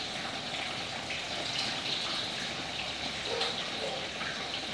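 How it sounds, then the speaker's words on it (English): Tap water gushes steadily over salmon in a kitchen strainer, a continuous close splashing rush with no pauses and no talking. "rinse the rest of it in the strainer here"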